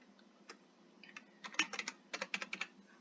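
Keys on a computer keyboard tapped during a Minecraft session, starting with a few sparse clicks and building into quick clustered bursts of typing, close and fairly quiet, with no voices.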